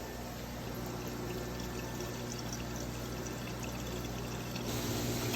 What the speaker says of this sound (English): I like to put water in the jar to use up all of the tomato sauce.